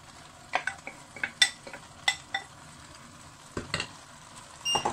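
Tomato goes into a pan of frying pisto vegetables, giving a soft, quiet sizzle under a series of sharp spoon scrapes and clicks from stirring, spaced irregularly.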